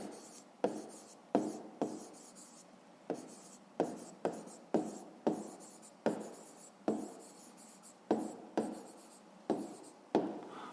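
A pen scratches across paper in quick, separate strokes, about twenty short bursts in a quiet room, each starting sharply and fading as a math exercise is written out.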